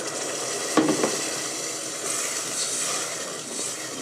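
Melted tomato paste for bulgur pilaf hisses and sizzles steadily in a pan as a splash of water is added, with a brief louder spit near the start.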